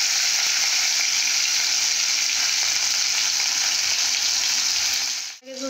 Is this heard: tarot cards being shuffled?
no